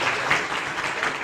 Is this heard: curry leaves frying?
no